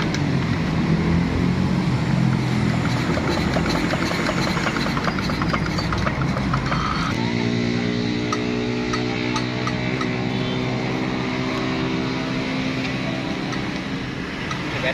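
Single-cylinder R180 diesel engine running after a hand crank start, a rough rhythmic chugging that shifts partway through to a steadier, more even idle thump, loud and close throughout.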